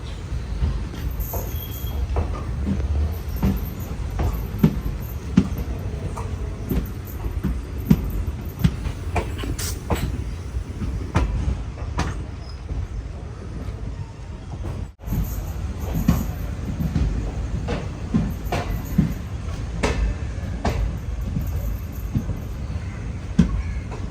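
A passenger train running from Cheruvathur to Mangaluru, with a steady low rumble of wheels and carriages and repeated rail clicks throughout, heard from inside the coach and close.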